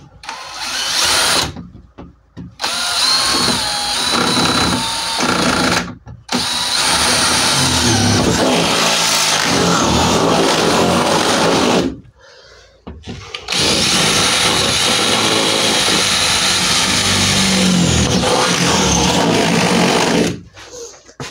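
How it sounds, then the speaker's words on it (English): Narrow saw blade cutting through the metal side panel of an empty Ford Transit Custom van for a window conversion, loud continuous buzzing bursts broken by several short pauses, close up with no talking. "I just cut four holes, and then I can do the corners first on my narrow blade."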